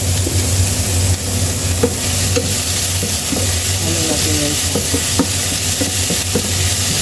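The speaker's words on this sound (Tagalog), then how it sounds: "i-mix well natin ng mabuti para makombine yung lasa" Cabbage omelette mixture with cheese is stirred and mixed over a loud, steady sizzling hiss, with scattered soft scrapes and clinks of the utensil against the pan.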